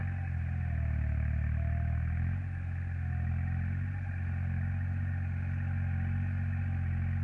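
A tractor engine idling and chugging steadily, a low rumbling drone with constant clatter, close by and unbroken.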